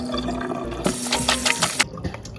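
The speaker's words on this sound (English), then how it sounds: "So next I'm going to rinse it out." Running tap water splashes steadily onto purple potatoes being rinsed in a kitchen sink, a continuous broadband wash with a few louder surges near the end before it cuts off.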